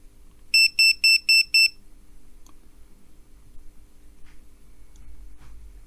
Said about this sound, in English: That was the meter beeping at me.